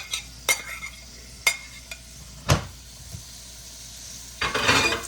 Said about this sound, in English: I'm just going to throw my onions in there for 2 or 3 minutes and let them saute a little bit